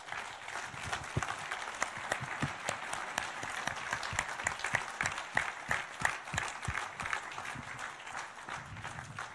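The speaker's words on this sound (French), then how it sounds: "Vos applaudissements spontanés" An audience applauds spontaneously at a municipal New Year's greetings ceremony, a steady wash of many hands clapping with sharp individual claps standing out, moderately close and sustained throughout without talk.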